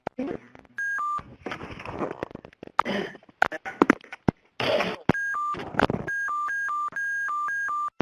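Touch-tone keypad dialing on a conference phone line, with short bursts of beeping tones pressed in quick succession, plus a longer run of rhythmic dial tones near the end, set between stretches of speech.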